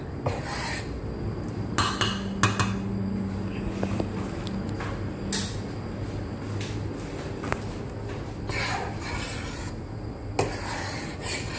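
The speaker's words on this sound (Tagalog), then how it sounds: "So, haluin ulit natin ng kutsara." A spoon scrapes and stirs a sticky toffee pudding mixture in a bowl, with steady scraping and clinking strokes close by and a few sharper knocks against the bowl.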